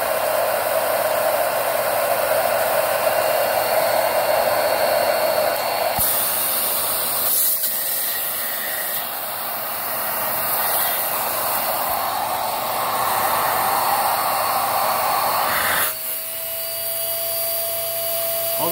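A Filtropur FC F3000 filter under an airflow test with a blower, a loud continuous rushing hiss that holds steady throughout, with a brief shift near the end and no talk.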